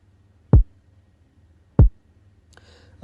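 Deep, punchy 808 kick drum hits land in a slow, sparse pattern, each a booming thump with a falling pitch, and silence between hits.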